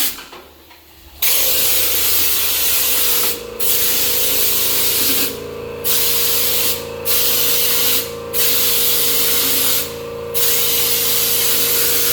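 A hose-end sprayer hisses in a steady broadband rush during yard work, cutting off in short gaps several times, with a low engine-like drone running underneath.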